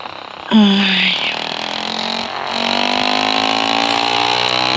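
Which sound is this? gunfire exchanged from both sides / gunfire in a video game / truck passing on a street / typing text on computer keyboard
truck passing on a street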